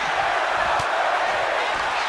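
Wrestling arena crowd at an SCW match cheering and roaring steadily after a kick-out at two, a dense continuous wash of noise with no pauses.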